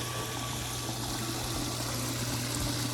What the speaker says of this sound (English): the filter will start to use clean water to backwash all the debris that's stuck in the filter